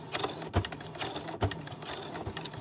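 A foot-pedal sewing machine back-stitches scrap fabric for a lanyard, a short run of mechanical clatter with a few sharper thumps, close and alone.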